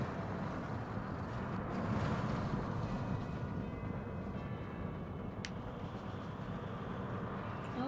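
A roller coaster with short trains runs in a lakeside theme park in Planet Coaster on PS4, a steady broadband rumble and rush of wheels on track with wind-like noise, continuous and fairly loud throughout, with no talking.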